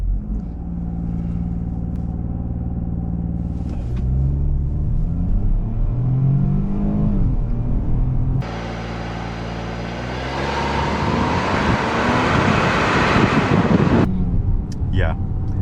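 A 2024 Ford Escape ST Line accelerating, its engine note rising and shifting through gears with steady road rumble and a louder surge of wind and tire noise late in the run, no talk over it.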